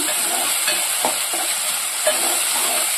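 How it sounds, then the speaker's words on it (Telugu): Ginger garlic paste fries in a pan for a cucumber tomato curry, a steady dense sizzle with a few soft stirring scrapes, close and fairly loud, with no voices. "1 టీ స్పూన్ అంతా అల్లం వెల్లిగడ్డ పేస్ట్ వేస్తున్నా"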